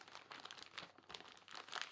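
A plastic bag holding the pieces of a Rush M.D. board game crinkles as it is handled, a faint, continuous crackling and rustling with small bursts and no voices.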